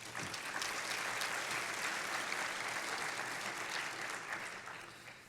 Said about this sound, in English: Can we give them a round of applause too?